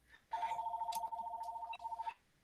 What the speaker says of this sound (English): And I'm getting a phone call for some reason. And I'm going to mute the ringer.